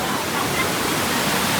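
Heavy waterfall flow at Malshej Ghat during monsoon red-alert rains, a loud, dense, unbroken roar of rushing water close by, with voices faintly mixed in.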